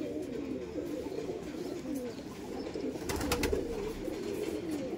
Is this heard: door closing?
no